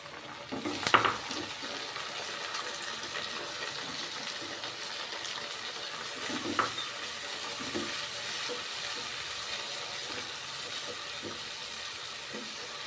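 Khichdi cooking in a pot gives a steady, quiet sizzle and bubbling hiss throughout, with a couple of brief clinks or stirring knocks, and no voices.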